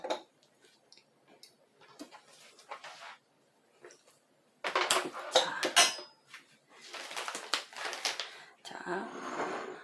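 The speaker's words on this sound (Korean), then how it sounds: "그럼 냄비랑 지금 당장 필요 없는 것들은 조금 치워 놓겠습니다" Pots, dishes and other kitchen items clattered and shifted aside on a table during a children's cooking activity, with bursts of clinking and knocking under intermittent talk.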